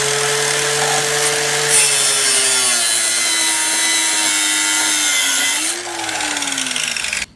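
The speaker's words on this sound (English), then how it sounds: "I'm going to tough this out with a dull hacksaw blade" A dull hacksaw blade rasps through a metal security strike plate for a flush bolt, giving a continuous, close, loud grinding scrape that shifts in pitch near the end before stopping.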